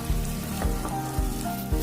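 Lemon chicken sizzles steadily in a kadai, with a broadband frying hiss and several dull scraping thumps from stirring at irregular intervals, close and moderately loud with no talking.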